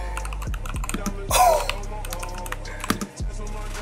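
Typing on an EPOMAKER TH80 Pro keyboard with Gateron Pro Black switches, a quick run of close, crisp keystroke clacks in an uneven rhythm, with a brief voice partway through.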